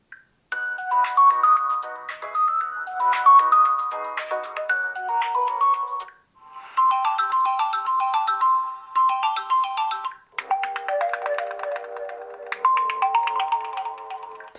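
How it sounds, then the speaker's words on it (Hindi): A melodic ringtone plays through the single small speaker of a VGO TEL New 16 Pro budget phone, three short tune segments separated by brief pauses, clear and unaccompanied. "यहां पर कुछ रिंगटोन चला लेते हैं और देखते हैं कैसी स्पीकर की क्वालिटी यहां पर मिलने वाली है।"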